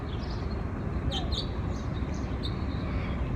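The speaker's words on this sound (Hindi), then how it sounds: "चिड़ियाओं की इतनी खूबसूरत आवाज आ रही है।" Birds chirping outdoors on a sunny day, a few short high calls scattered over steady outdoor background noise.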